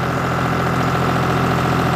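A tractor engine runs steadily at about 1700-1800 RPM with the PTO engaged to drive a Jagatjit straw reaper, a loud, even, continuous drone with a low throb and no talk.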